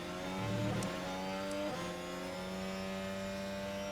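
An F1 race car in the F1 Manager 24 video game accelerates at a Qatar sprint race, its high engine note climbing and shifting pitch steadily across the stretch, heard alone without talk.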